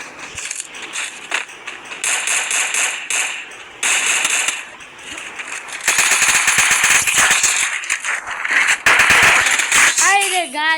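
Gunfire from a shooting video game: loud, rapid automatic bursts and single shots in uneven clusters, closely miked throughout, with other electronic game sounds toward the end.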